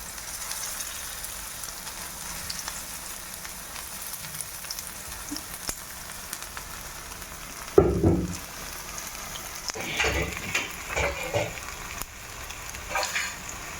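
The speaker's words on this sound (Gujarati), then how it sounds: "પછી એને આપણને સેલો ફ્રાય કરશું" Beetroot tikki rolls shallow frying in oil in a pan give a steady soft sizzle and crackle throughout, with a few louder clattering bursts as the rolls are moved or turned.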